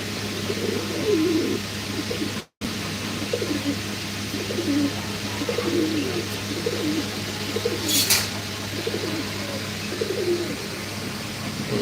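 Fancy pigeons coo in soft repeated bursts at a busy Mirpur pigeon market, steady over a low crowd hum, with a brief sharp noise near the end.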